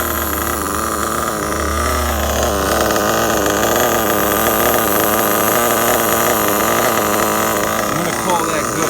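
A Losi 8ight nitro RC truggy engine idles steadily at close range, a continuous buzzy whine holding even revs throughout with no drop in RPM, while someone talks over it.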